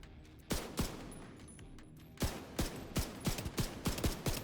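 Sharp bursts of video game gunfire, a few spaced shots followed by a rapid run of closely spaced reports, fairly loud and alone with no talking.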